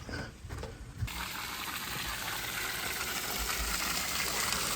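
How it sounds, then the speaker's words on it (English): Steady rushing water in a creek, a continuous broadband wash that swells in after the first second and holds loud and close throughout. "I hear running water though."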